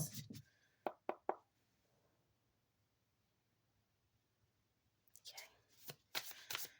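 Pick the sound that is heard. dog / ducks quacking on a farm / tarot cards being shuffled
tarot cards being shuffled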